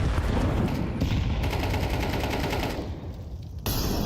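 Rapid M4A4 rifle fire in Counter-Strike 2 during an esports tournament match: loud, dense, continuous volleys of shots that briefly thin out before a final burst.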